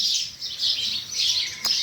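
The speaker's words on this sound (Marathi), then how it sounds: "छान चालू आहे पक्षी किलबिलाट" Birds chirping outdoors in a wet countryside after an overnight rain, several bright, high twittering bursts repeating in quick succession at moderate distance, with a sharp single call near the end and no voices.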